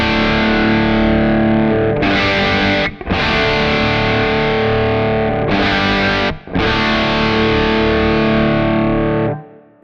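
Heavily distorted electric guitar through a Kemper Profiler with a high cut EQ applied rings out in long sustained chords, loud and close, broken by two brief rhythmic chugs and short pauses, with no voice.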